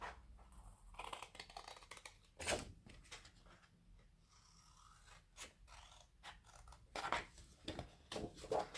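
Paper postmarks being snipped out with scissors for a vintage mini ephemera craft project, giving close, quiet bursts of cutting and paper handling scattered irregularly across a soft background.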